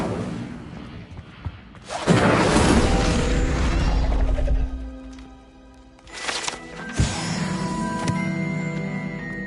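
Incendio fire spell cast in the game Hogwarts Legacy: a loud, roaring blast of flame surges for a couple of seconds, fades, then flares again with crackling bursts over a low rumble.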